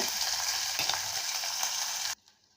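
Tomato sautéing in a pan for chicken varuval, a loud continuous close sizzle with a stirring scrape partway through, cutting off abruptly into near silence near the end.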